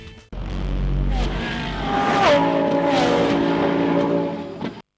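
Race cars, including a BMW, roar past at a Nürburgring endurance race, one engine screaming loud and close with rising and falling revs and a Doppler sweep as it passes, under a faint commentator's voice.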